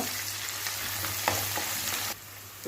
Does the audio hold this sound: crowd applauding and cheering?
no